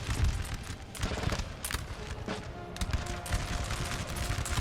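Line infantry fire muskets in the Napoleon Total War video game, an Austrian battle: ragged volleys and scattered shots crackle and pop continuously at a moderate distance, layered into a dense fusillade with no talk.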